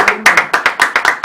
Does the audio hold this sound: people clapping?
yes